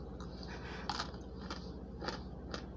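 Arrowroot starch chunks crunched between the teeth, a few crisp bites close up, spaced about half a second to a second apart, over a steady low background hum.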